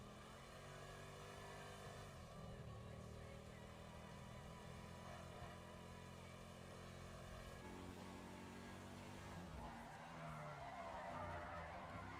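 Car skidding and swerving in the RedLineRP video game, a steady engine drone with tire screech running throughout, loud and continuous, rising in intensity toward the end.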